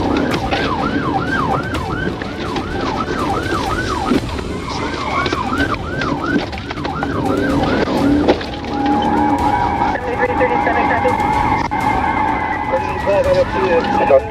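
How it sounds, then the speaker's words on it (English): A police car siren wails in fast repeating sweeps during a high-speed chase, loud and close over a roaring engine and road noise, then shifts to a steadier tone as radio chatter and voices mix in. "emergency lights and sirens were activated, initiating a pursuit"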